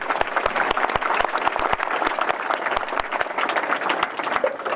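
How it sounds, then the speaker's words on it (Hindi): Schoolchildren at a school cycle-distribution ceremony clap loudly together, a dense, steady patter of many hands sustained throughout without pause. "सब अपने अपने लिए जोर से ताली बजाओ।"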